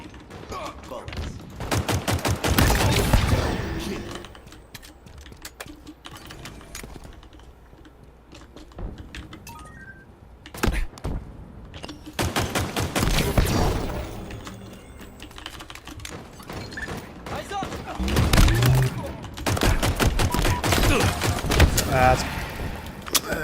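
Rapid bursts of pistol fire in a first-person shooter game played with a mouse, coming in dense clusters of quick shots separated by quieter stretches, with a player's voice talking over parts of it.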